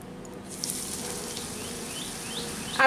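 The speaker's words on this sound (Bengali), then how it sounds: "এখন আমি নিজের পছন্দ মতো শেপে এগুলোকে ভেজে নিচ্ছি।" Puffed rice pakoras fry in hot refined oil, giving a steady close crackling sizzle with a few sharper pops over a continuous hiss.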